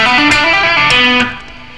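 A distorted electric guitar runs through a rock scale pattern with hammer-ons and pull-offs, a quick legato line of sustained overdriven notes that ends on a held tone.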